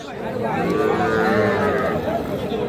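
Cattle and calves moo loudly and close at a busy rural cattle market, one long sustained lowing call with faint crowd chatter behind.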